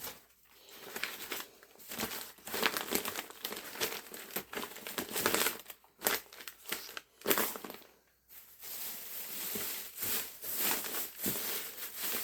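Paper being crumpled by hand as bedding for a worm bin: close, dense crinkling and crushing in repeated bursts with short pauses, fairly quiet and with no talking.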